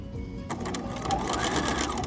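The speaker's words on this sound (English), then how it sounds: "I'm just sewing along" Sewing machine stitching in an invisible zipper along one side, a steady fast mechanical whir with rapid needle ticks that starts after a brief lull, close and alone.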